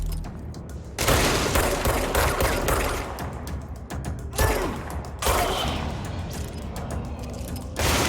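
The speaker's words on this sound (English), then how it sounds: "He's got like a machine gun, I think." Machine gun fire in the video game Control: loud, rapid bursts of gunfire that come in several separate volleys over a mechanical background clatter, with brief quieter gaps between them.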